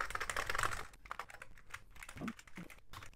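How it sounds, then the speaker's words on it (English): Keys clatter quickly on an Amiga 1200 computer keyboard being tested, a dense run of close clicks that thins into sparser taps, with some faint talk. "So let's test the keyboard, which is always a problem,"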